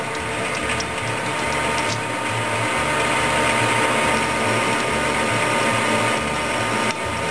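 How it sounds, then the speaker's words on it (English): A banjo bolt being drilled with a cobalt bit, probably by an air-powered drill, giving a loud, close mechanical whir with rapid ratcheting clatter that runs steadily and cuts off sharply near the end. "Cobalt drills."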